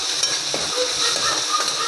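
Onion fries in a pan with salt, giving a steady close hiss and sizzle that runs without a break and has no talk over it.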